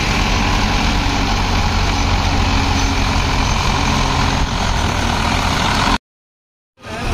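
A Hindustan tractor hauling two sugarcane trailers rumbles past close by, a loud, steady heavy-engine drone that holds for about six seconds before cutting off abruptly, then briefly returns at the end.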